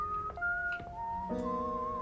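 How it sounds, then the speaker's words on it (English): A short whistled tune from the video game Date Everything, with a few sustained notes sliding between pitches over soft background music and no one talking. "Who was whistling?"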